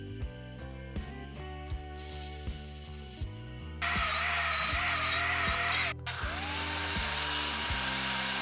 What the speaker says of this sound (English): I drill some holes through the strapping